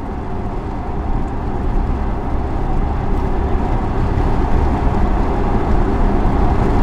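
A NIO electric car travels fast at highway speed on autopilot, with a loud, continuous rumble of road and wind noise filling the cabin, steady throughout with no voices.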